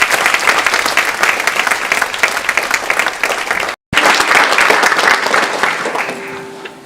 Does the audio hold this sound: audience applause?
yes